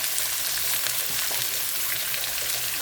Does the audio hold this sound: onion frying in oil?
yes